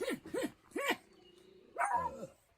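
A person imitates a dog with several short, rising-falling yelping barks in quick succession, then a longer whining howl, close and fairly quiet, with no other talk.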